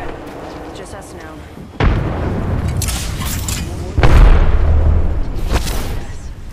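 Video game firefight with booming gunfire and explosions, two heavy blasts standing out amid ongoing shots, loud and close; voices speak between and over the bursts.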